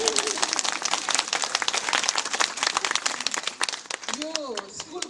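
An audience applauding at a school event, dense rapid clapping from many hands close up, with brief speech at the end.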